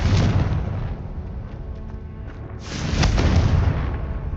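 Fiery Confringo spell blasts in Hogwarts Legacy, two loud booming explosions with rumbling tails, the first sustained and the second erupting after a brief lull.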